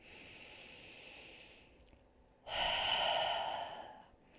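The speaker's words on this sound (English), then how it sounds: "Draw the breath in fully and exhale completely." A slow, deep breath taken in fully and then let out completely during a guided self-care breathing exercise, the inhale soft and the exhale louder, close and unaccompanied.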